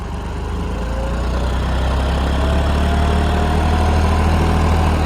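A John Deere 5310 4x4 tractor engine idles close by, a steady low rumble with a constant throbbing hum that holds evenly throughout.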